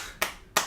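Two sharp, separate hand claps sound close by, spaced about a third of a second apart, with near silence around them.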